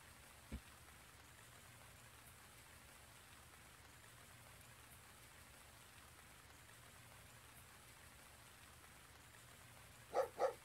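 Steady rain falls on an outdoor surface, a soft continuous hiss with an occasional louder drop. Two short dog barks come at the end.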